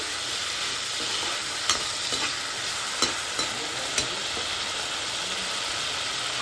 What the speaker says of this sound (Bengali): এবার এই তেলেই আমি কিছুটা পরিমাণে গোটা জিরা ফোড়ন দিয়ে দিলাম, আর দিয়ে দিলাম দারচিনি আর ছোটো এলাচ।